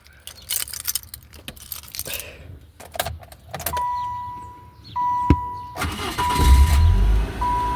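Keys jangle and clicks sound before the car engine cranks and catches, then idles with a steady tonal whine, just after a new alternator was installed on a car called Sadie.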